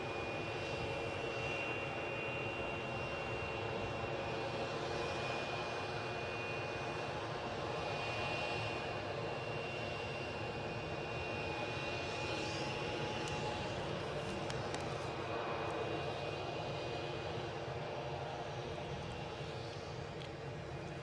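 A Loganair Embraer RJ145 regional jet at Edinburgh airport holds a steady engine drone with a thin, sustained high whine over about twenty seconds, heard from a moderate distance.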